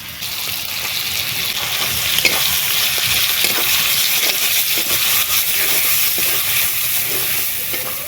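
Shrimp frying in a pan with peanuts, cumin, coriander and green chilli paste give a steady, close hissing sizzle that runs unbroken throughout, with no talk.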